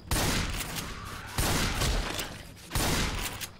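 Shotgun fire in a zombie video game: three loud, booming blasts spaced about a second and a half apart, each trailing off into a sustained rumble.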